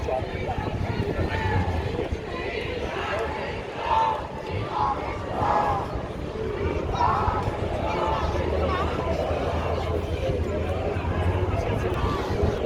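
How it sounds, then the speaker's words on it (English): A peaceful protest crowd at Liverpool Pier Head fills the air with dense chatter and murmuring voices, with occasional louder shouts rising out of the steady hubbub. "it's a pretty peaceful crowd"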